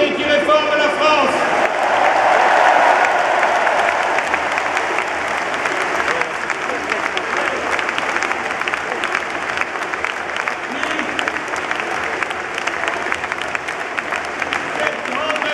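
Large audience at a political rally in Villepinte applauding loudly and steadily, a dense sustained wash of clapping with crowd noise and cheering, with a voice briefly heard at the start.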